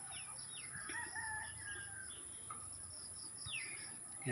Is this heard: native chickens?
yes